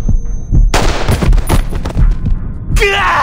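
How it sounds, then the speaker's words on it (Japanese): Gunshots in the video game Reverse 1999: a rapid burst of loud, close impulsive bangs over a low hum, lasting about two seconds, followed by a voice at the end. "銃声がした。"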